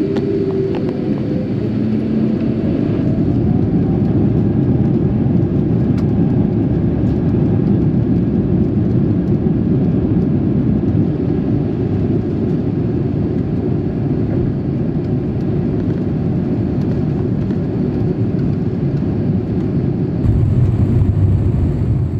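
An Aeroflot Airbus A350 airliner taxis toward the runway, heard from inside the cabin as a steady, loud, unbroken engine drone and rumble lasting throughout, with no talking.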